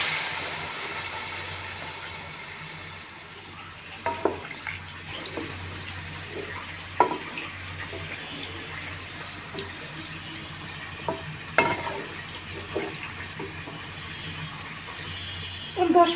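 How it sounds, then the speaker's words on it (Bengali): Water streams into a cooking pot of Padma hilsa and winter vegetables, a steady close pour with scattered clinks and small knocks along the way. "পানি দিয়ে দিব।"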